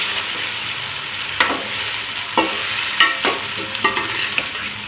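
Pieces of taro root fry in oil with a loud, constant sizzle while a spoon scrapes and stirs through them every second or so, close up and without voices.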